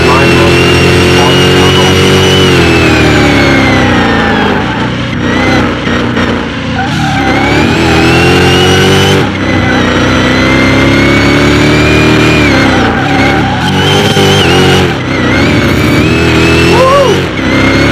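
Loud, continuous engine roar from a Hellhawk SUV, rated at 2,400 horsepower and 2,800 ft-lb of torque, leaving the start of a mile drag race, the pitch sweeping upward repeatedly with short lulls between shifts; people can be heard shouting underneath.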